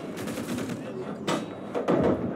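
Gunfire from a KV tank in the Call to Arms Gates of Hell Eastern Front battle, a few sharp close shots among rapid machine-gun bursts, with a voice talking over the combat.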